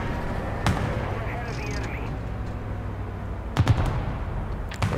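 Tank cannon and machine-gun fire from an M8 LAC light armored car in War Thunder ground realistic battle: a few sharp bursts near 0.7 s and 3.6–3.8 s over a steady engine rumble, with someone talking.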